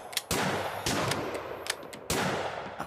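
Cultists open fire in Lovecraft's Untold Stories: several loud, sharp gunshot bursts crack in quick succession, each trailing a short echoing tail, with no talking.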